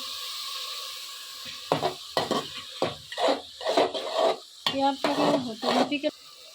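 Garlic paste sizzling in hot oil in a pan for a duck curry, stirred with a spoon in a series of scraping, clattering strokes over a steady background hiss, close and moderately loud.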